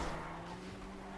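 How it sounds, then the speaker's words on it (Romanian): A fast car in GTA Online drives along with a steady, humming engine drone, quiet and even throughout with no other sounds. "Și o mașină rapidă"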